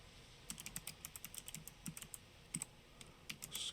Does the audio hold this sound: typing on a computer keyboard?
yes